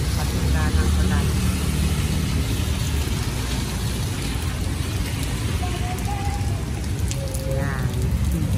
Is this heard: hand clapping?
no